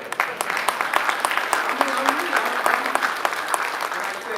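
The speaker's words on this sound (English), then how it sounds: "All y'all give yourself a round of applause." Audience at a letter carriers' heroes awards event applauding themselves, dense hearty clapping with sharp individual claps standing out, cheering voices and a speaker's voice running beneath.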